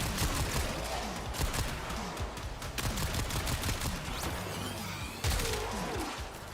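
Weapon primary fire in Warframe, a steady stream of close shots and impacts in combat, dense and continuous with a brief louder burst near the end.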